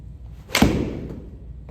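A golf club swings through and strikes a ball on a right-to-left draw shot, giving one sharp, close whoosh and crack that fades quickly into quiet outdoor ambience.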